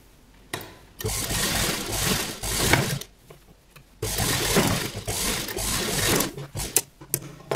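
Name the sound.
sewing machine stitching a ball gown jacket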